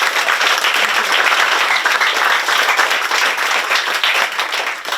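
Loud, sustained applause from a large crowd at a U.S. Embassy International Women's Day panel, dense clapping that holds steady for several seconds and barely tapers at the end.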